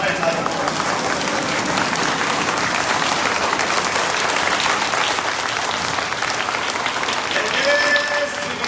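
A crowd at a political rally, a Vaishya community convention in Bangarmau, Unnao, claps loudly and without a break, a dense, even wall of applause with no talk standing out.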